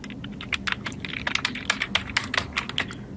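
Fast typing on a computer keyboard while entering text in a logo design program, a close, steady run of crisp key clacks at an uneven rhythm over faint background hum.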